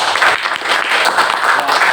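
Students in a classroom break into loud, dense applause, a steady close wash of many hands clapping at once that holds evenly without pause.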